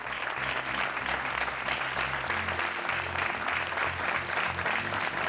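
Steady studio-audience applause on a Portuguese TV game show, continuous and fairly loud from start to finish with a low musical bed running underneath.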